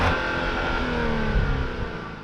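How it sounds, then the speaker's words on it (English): A 2022 Genesis GV70 engine and exhaust, heard from outside the car, rev and accelerate, a loud, rising mechanical drone that eases off slightly near the end, with no talking. "since we did talk about the exhaust tips, what does it sound like from the outside?"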